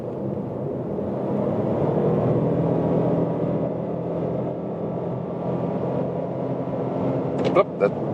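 Toyota Yaris Cross accelerating from 80 to 120 km/h, a steady loud engine drone with road and wind roar inside the cabin, building slightly in pitch.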